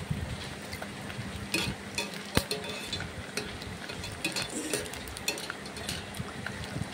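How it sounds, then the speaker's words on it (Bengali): Papad fries in a pan, giving a quiet, steady crackling sizzle with scattered sharp pops and light utensil clinks, close by and without talk. "ভেজে নিচ্ছি।"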